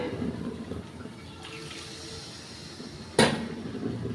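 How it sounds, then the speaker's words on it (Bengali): Water is poured into a cooking pan holding spice paste and fried eggs. A steady close pour runs for a few seconds and ends with a sharp splash near the end. "এখানে একটু পানি দিয়ে দেবো"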